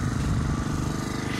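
Lawn mower engine running close by, a loud, steady, rapid pulsing chug throughout.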